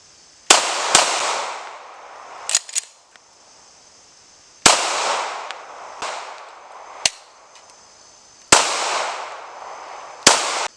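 Glock 19 Gen 6 pistol fired at a range, sharp loud shots in irregular pairs and singles with echoing tails, spaced a few seconds apart while the gun intermittently hangs up.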